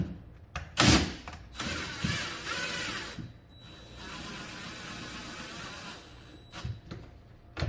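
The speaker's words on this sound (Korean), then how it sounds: "다시 한번 두 번째 볼트 왼쪽에다가 체결합니다." Mechanical clicking and ratcheting while a second bolt is tightened on the left side during an assembly, with a loud clatter near the start, then a steady whirring drone and scattered clicks, heard close with no talking.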